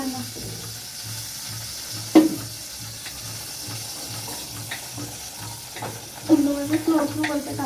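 Chopped onion sizzles and fries in a hot pan, with a steady crackling hiss, a couple of louder stirring clatters, and faint voices in the background.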